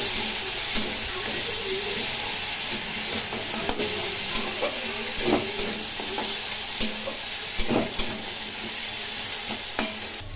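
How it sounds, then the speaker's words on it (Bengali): Vegetables frying in a pan with cumin, green chilli and ginger paste, a continuous loud sizzle and hiss broken by intermittent scrapes and knocks of a stirring spatula. "এগুলি একটু ভালো করে ভেজে নেব। এর মধ্যে জিরে লঙ্কা আদা বাটা দিয়ে দিলাম।"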